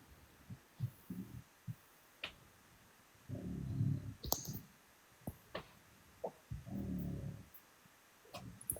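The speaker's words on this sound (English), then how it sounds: "that's my dog, Frankie, snoring." A sleeping dog snores in slow, low rumbling breaths, each a rough drawn-out inhale at an uneven rhythm with short pauses between, faint and close in a quiet room.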